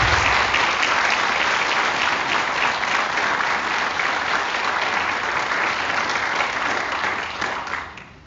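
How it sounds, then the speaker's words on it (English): An audience at a high school awards night gives sustained, dense applause that stays loud throughout and fades out at the end. "Let's give these students a nice round of applause."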